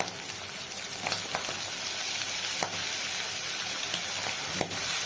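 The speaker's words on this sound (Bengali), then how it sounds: "আমি রসুনটা আগে কষিয়ে নিই" Garlic paste frying in hot oil in a pan gives off a steady, close hiss and sizzle, broken by a few faint scrapes and taps of stirring.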